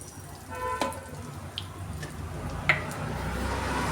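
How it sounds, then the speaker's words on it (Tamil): Mustard seeds splutter in hot oil in a pan, giving a constant low sizzle broken by a few sharp pops and crackles, close and moderately loud with no voices. "கடுகு நல்லா பொரியட்டும்"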